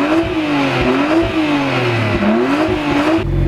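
A car engine fitted with DIY leaf-blower turbos revs up and down repeatedly, a loud rising and falling whine with rumbling undertone, close by.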